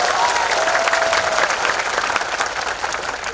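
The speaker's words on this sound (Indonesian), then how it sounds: "Tepuk tangan untuk kita." Loud, sustained applause from a large crowd at a live event in Tuban, Indonesia, a continuous wash of clapping that holds steady throughout.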